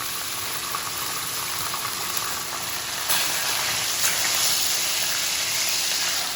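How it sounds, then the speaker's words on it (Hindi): Chicken fries in a hot pan with a steady, dense sizzle and crackle. It grows slightly louder partway through, and no voices are heard. "चिकन को ऐड करने के बाद हम चिकन को थोड़ा सा फ्राई कर लेंगे।"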